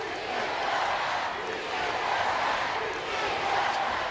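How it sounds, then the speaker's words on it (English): A capacity wrestling arena crowd in Laredo at a WWE SmackDown event chanting "Si se puede", a dense, steady roar of many voices with rhythmic swells, loud and sustained. "This capacity crowd in Laredo chanting "Si se puede.""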